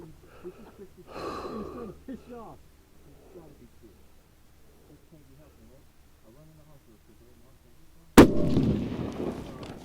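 A single loud, sharp 6.5 Creedmoor rifle shot cracks out near the end during load development at a target range, following quiet breathing and murmured talk.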